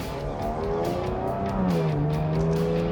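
A supercharged Jaguar F-Type accelerates hard, its engine note rising steadily, dipping briefly at a shift, then climbing again, loud and close.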